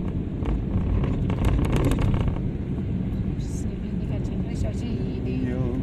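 A car grinds along in third gear at about 50 km/h on an icy, snowy mountain pass road without snow chains, its engine and tyre noise a steady, loud rumble with a voice talking over it.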